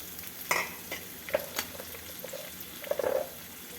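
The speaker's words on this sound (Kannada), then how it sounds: "ಈಗ ಇದಕ್ಕೆ ಸಣ್ಣದಾಗಿ ಹೆಚ್ಚಿಟ್ಕೊಂಡಿರುವಂಥ ಹೀರೆಕಾಯಿ ಸೇರಿಸ್ಕೊಳ್ತಾ ಇದ್ದೀನಿ" Finely chopped ridge gourd stir-fries quietly in a pan, with soft sizzling and a few light spatula scrapes and clicks at close range; no talking.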